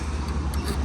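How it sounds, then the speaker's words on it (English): Steady low rumble of passing car traffic fills the background at moderate level, a continuous broadband road drone with slight swells and no talk. "sorry for the car noise in the background"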